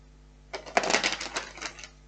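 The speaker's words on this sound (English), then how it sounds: "Let's just give this another shuffle." A deck of tarot cards is shuffled in one quick, clattering burst of rapid clicks lasting over a second, close and fairly quiet, with no talking.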